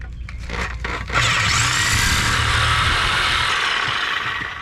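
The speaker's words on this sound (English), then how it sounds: "So now we're going to use our Sawzall and we're going to cut the ball joint" A Sawzall reciprocating saw cuts through a tough steel ball joint on a car's suspension knuckle, a loud, continuous buzzing grind starting after a second and holding steady to the end, close by and alone.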